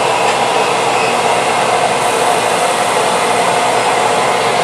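Steady loud whir of a cosmetic skin laser machine, a constant airy hum like a blower, unchanging throughout.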